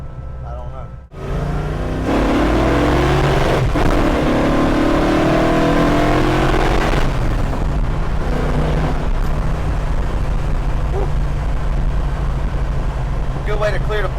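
Engine of a 1965 Ford Mustang running very rich, which starts up and then revs hard several times before settling into a loud, rough idle, with voices talking nearby.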